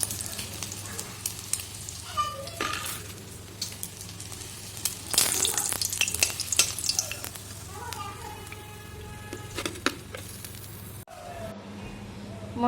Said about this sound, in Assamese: ডিমকেইটা মই এনেকৈ ফ্ৰাই কৰি লৈছোঁ।